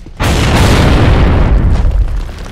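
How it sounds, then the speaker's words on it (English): A single loud grenade explosion in Gears of War 2 bursts suddenly, then a heavy rumbling boom fades slowly, with no talking over it. "Grenade, there's a grenade in the back right there on that staircase."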